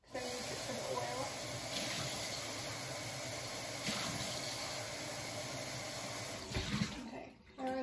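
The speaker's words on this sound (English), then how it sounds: "I'm going to rinse and dry this out first because I use it for the oil." Water runs steadily from a kitchen tap as a cup used for oil is rinsed out, a continuous close hiss and splash lasting several seconds with slight changes in flow, then a brief clatter as it shuts off near the end.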